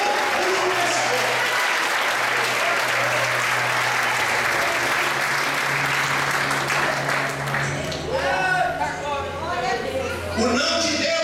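Church congregation applauding throughout, a dense steady wash of clapping hands close and loud, with crowd chatter and voices mixing in toward the end.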